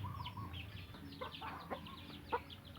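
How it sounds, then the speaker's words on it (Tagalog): A hen with four chicks on a free-range chicken farm, giving soft scattered clucks and short calls at a moderate distance over a low outdoor background hum. "This hen originally has 5 chicks, and now she has only 4."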